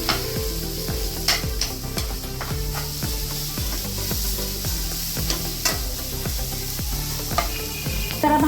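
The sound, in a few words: grated bottle gourd sizzling while being roasted for halwa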